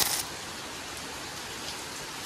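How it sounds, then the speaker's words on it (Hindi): Steady rain falls suddenly in Kerala, a dense, even hiss of drops close by with a brief louder burst at the start and no voices. "ये देखो भाई, अभी जस्ट धूप था और अचानक से बारिश हो गया"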